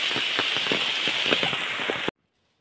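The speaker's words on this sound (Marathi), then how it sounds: "आता पावसाची सुरुवात झाली, त्यामुळे आता थोडा वेळ काम थांबवता" Rain patters steadily on a nearby surface with crackly, uneven drop hits, then cuts off into sudden silence.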